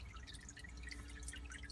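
Faint, irregular drops of water fall inside an off-grid aquaponics setup over a soft continuous hum, with no talking.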